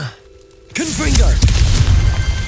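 A Confringo blasting spell goes off in Hogwarts Legacy. After a brief quiet stretch, a sudden loud blast erupts into a rolling rumble, with a voice-like cry briefly over the onset.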